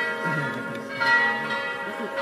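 Church bells ring out nearby with sustained, overlapping metallic tones under a voice speaking Italian at an outdoor lecture.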